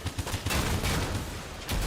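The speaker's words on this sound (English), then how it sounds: "Oh no, I got the cannons on me" Cannon blasts and gunfire in the Crossout vehicle combat game, a dense rumbling barrage of overlapping shots with rapid low thumps, fairly faint and continuous.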